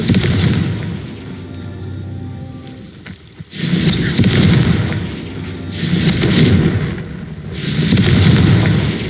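Confringo fire spell explosions in Hogwarts Legacy crack out one after another, three or four loud blasts with roaring tails that swell and fade in waves over a dense game soundscape.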